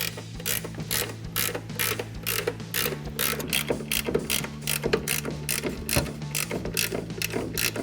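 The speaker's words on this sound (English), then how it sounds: "I recommend a ratcheting wrench to make life a little bit easier." A ratcheting wrench works the nuts loose on a front shock of a 2014–2018 Silverado/Sierra 1500, a close, rapid, steady run of crisp ratchet clicks continuing throughout with no talking.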